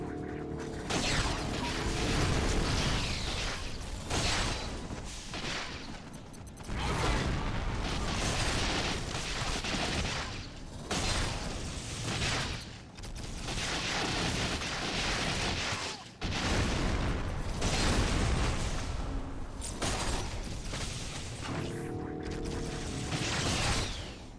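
Grenade blasts in the Xbox game GoldenEye: Rogue Agent, a series of loud booming explosions with sustained rumbling tails, separated by brief gaps.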